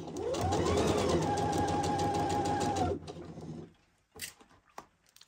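A domestic sewing machine runs a straight stitch on fabric, whirring loudly and steadily for about three seconds close by, then stops, followed by a few faint clicks and handling noises.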